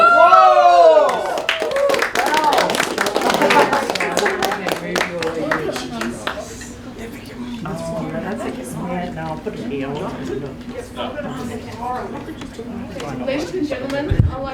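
Wedding guests clap for the bride and groom in a reception hall, a loud burst of applause that tapers off under lively chatter and people talking over it.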